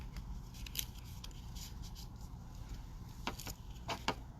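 Scissors cut through a piece of material in a quiet room, giving a few soft, faint snips and clicks spaced over several seconds.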